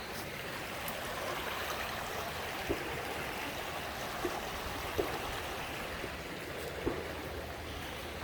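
Steady broadband rush of flowing water, like a creek running over rocks, continuous and fairly close, with a few soft knocks.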